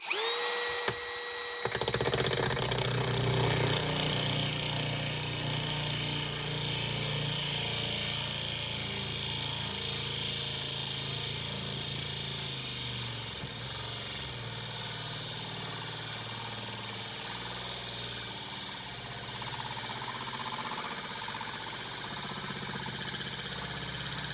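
A carbide core bit in a power drill bores into hard porcelain stoneware tile, starting at high speed with a loud, steady whine and grinding that continues close up for over twenty seconds, easing slightly later on.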